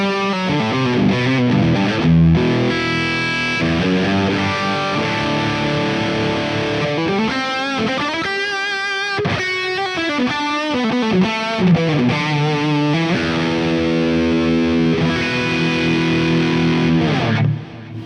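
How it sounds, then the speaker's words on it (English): An electric guitar played through a Genome amp with ping pong delay and studio reverb, distorted chords and single-note lines ringing out with bouncing repeats and a wide reverb tail, played alone without talk. "It's a great ping pong delay, great studio reverb."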